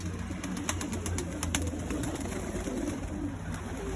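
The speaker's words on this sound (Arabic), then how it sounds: "زين هذا الحمام ما شاء الله" Iraqi red pigeons kept in a loft, soft low cooing over a faint constant background hum, with scattered light clicks and flutters through the recording.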